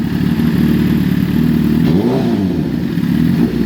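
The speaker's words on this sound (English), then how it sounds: "So give it a couple of revs" A 2011 Suzuki GSX-R1000 on E85 fuel idles loudly up close, then takes a short blip of throttle that swells the engine note before it drops back to idle.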